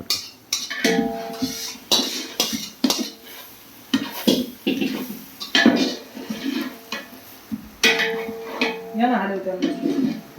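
Upma being stirred in a pan with a metal spoon, a series of uneven scraping clinks and knocks against the pan, close and moderately loud, with a voice speaking between them.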